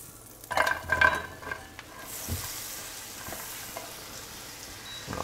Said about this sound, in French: On va faire griller le pain comme ça.